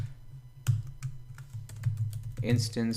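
Close, crisp keystrokes tap out in irregular bursts on a computer keyboard, a rapid run of clicks with short pauses, and a voice joins briefly near the end.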